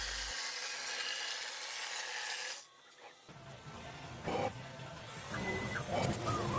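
CNC machine surfacing a wooden panel for a wooden bath, a steady loud broadband cutting roar that drops out briefly partway, then resumes with rougher bursts and scraping.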